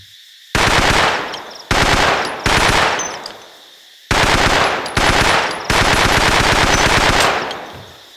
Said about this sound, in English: Pick up the grease gun and see what you think about this one.